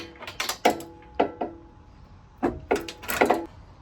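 Wrench or ratchet work on exhaust bracket bolts of a classic Fiat 500 during a sports exhaust fitting, giving a series of sharp metallic clicks and creaks in two clusters, close and fairly loud, with no talk.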